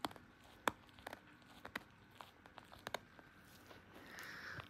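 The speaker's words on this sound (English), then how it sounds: "Listen to him crunch on it." A dachshund chews and crunches on a toy lion, producing a series of sharp, irregular close crunches and crinkles with quiet gaps between them, faint and intimate.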